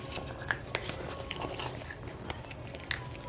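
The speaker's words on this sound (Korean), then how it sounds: "어머, 이거 씹어먹네, 이쁘게." A pet crunches and bites dry food at home, giving sharp, irregular crunches and chewing clicks up close at moderate volume, with no talking during the chewing.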